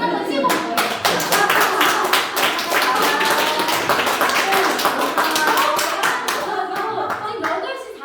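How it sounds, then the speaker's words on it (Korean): An audience at a health lecture breaks into dense, loud clapping that holds steady for several seconds and then thins out, with some voices underneath. "박수 한번 치고 가요."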